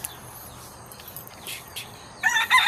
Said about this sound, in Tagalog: ito ang aking munting manukan